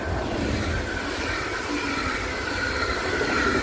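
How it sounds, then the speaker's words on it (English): A train approaching on a railway beside a road, heard as a steady low rumble and rolling noise from a moderate distance, continuous and slowly building. "Ayan yung train o paparating"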